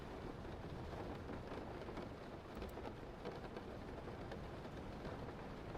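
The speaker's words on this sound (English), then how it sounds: "how are we getting the rain music" Rain sounds playing as background music, a faint, steady hiss of rainfall with a low rumble underneath, continuous and without talk.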